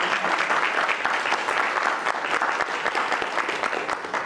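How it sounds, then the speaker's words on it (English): A round of applause at a board of managers meeting, steady dense clapping from a gathered audience lasting several seconds, fairly close and without talk. "I just would like to give a big round of applause to our outreach and enrollment leader, Ms. Florence Malone-Crump"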